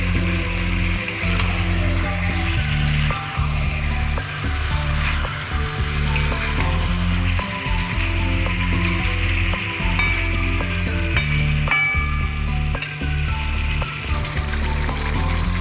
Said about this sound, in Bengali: তো একটু কষাই ভালো করে।